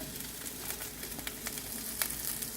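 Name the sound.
beans and carrot sautéing in hot oil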